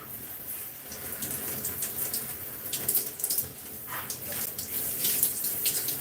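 Water runs steadily from a tap while hair is rinsed on wash day, a close broadband gush with splashing variations and soft handling sounds.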